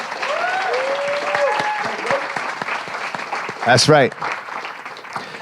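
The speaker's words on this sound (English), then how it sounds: "let's give all of our students a round of applause." Audience at a regional poetry recitation semi-final applauding the student competitors, a steady dense round of clapping throughout, with a host's voice speaking over it and a brief burst of talk near the end.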